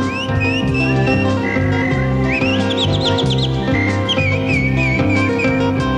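Mimicking a calandria lark, a person whistles long warbling lines broken by rapid trills and chirps, prominent and close above continuous rhythmic music.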